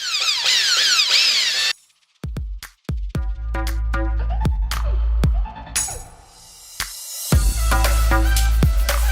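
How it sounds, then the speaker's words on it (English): A power drill with a 3/32 bit bores holes for a felt baby mobile, heard close up as bursts of whirring with clicks and brief silent pauses between runs. "you're just drilling all your holes at once"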